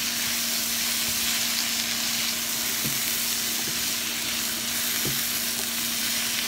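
Summer vegetables sauté in a hot pan with Chinese five spice, giving a steady, close sizzle and crackle that runs unbroken with no talking.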